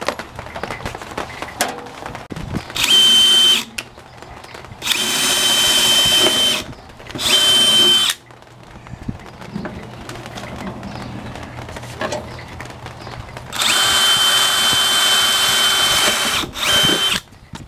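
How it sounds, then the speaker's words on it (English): Power drill boring a bit straight through a solid step to make a hole for a mounting bolt, heard as four loud, sustained whining bursts of several seconds each, separated by quieter handling and mechanical clatter. "we're going to drill straight through here with our bit to install our bolt"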